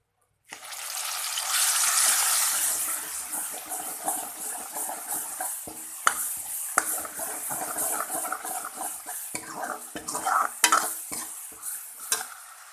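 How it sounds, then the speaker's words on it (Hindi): A steady sizzle of garlic and onion paste frying in a hot pan, with occasional scrapes and taps of a stirring spoon, moderately close and without talk. "अब हम इसमें लहसुन और प्याज का पेस्ट डाल देंगे।"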